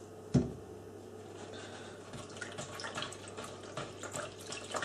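Water with a few drops of washing-up liquid swirled around air gun pellets in a small container, a soft close sloshing and trickling after a sharp knock at the start, with no talking.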